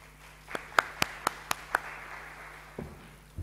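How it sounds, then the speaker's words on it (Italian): At a conference, a few isolated hand claps ring out in a quiet room, about six sharp claps spaced over a second and a half before fading to near silence. "Grazie per l'applauso che sicuramente era per me"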